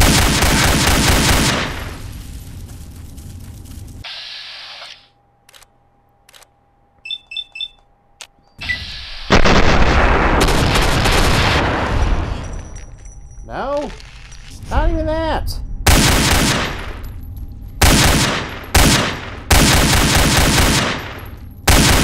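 Gunfire from a firearm in Fallout 3 aimed at a giant ant, loud bursts of shots broken by quiet gaps, with beeps, scattered impacts and a person talking between the volleys.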